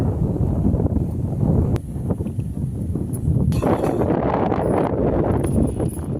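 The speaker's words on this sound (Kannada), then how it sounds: "ಗಾಳಿನ ಜೋರೈತಿ" Strong gusty wind buffeting the microphone, a continuous low roar that surges and eases, with faint rustling in the background.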